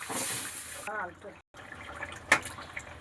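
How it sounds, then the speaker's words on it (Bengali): Someone speaks briefly, then a small amount of water is poured into a pan of rohu fish curry with broccoli and potato, a short close splash and trickle after a moment of silence. "এবার একটু জল দিয়ে দেবো অল্প করে জল দেবো"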